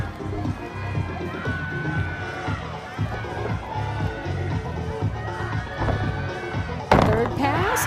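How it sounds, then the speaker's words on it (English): Arena crowd at an NCAA women's gymnastics regional cheers and shouts steadily through a gymnast's floor routine, with a sharper swell near the end. A commentator talks over the noise. "all the teams are cheering her on"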